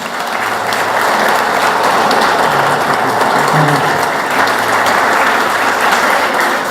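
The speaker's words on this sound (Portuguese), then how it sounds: "Pode aplaudir, irmãos." A church congregation bursts into loud, continuous applause during Father's Day testimonies, a dense wash of clapping that holds steady from start to finish.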